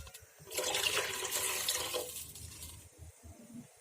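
Water gushes and splashes from a jug into a cooking pot for about two seconds, faint and close, then trails off into quiet.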